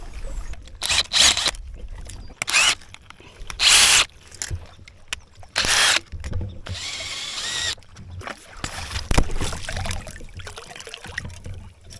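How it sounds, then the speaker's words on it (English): An old pipe fitting is worked loose so a stainless steel one can go in at a cabin, with bursts of loud tool noise and metallic scraping that start and stop between stretches of quieter handling. "So I'm gonna pull this fitting out and put in my stainless steel fitting"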